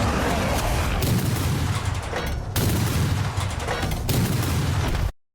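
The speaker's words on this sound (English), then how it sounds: "I love the sound of this Hell Blaster volley gun." Hellblaster volley gun from the Total War: Warhammer 2 cinematic firing repeated heavy booming volleys, a dense, loud barrage with surges roughly every second over continuous low rumble.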